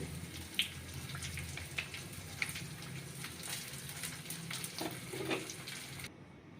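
Samosas frying in hot oil give a soft, steady sizzle with a few scattered clicks and pops of utensils, quiet and continuous throughout with no talking.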